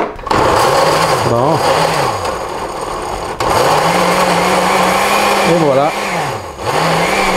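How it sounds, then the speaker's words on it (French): A kitchen blender whirs loudly as it chops garlic cloves, parsley and cherry tomatoes for a salsa-style pizza sauce, its motor pitch dipping and rising in a few surges and briefly stopping, with a voice speaking over it. "On s'en va au blender. Donc, on met les gousses d'ail, le persil et les tomates cerises."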